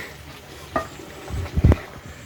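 A thick, dark black-chicken Karkidakam medicine mixture being stirred hard in a pot, with a faint sizzle under a few knocks of the spoon and a cluster of heavy clunks near the end.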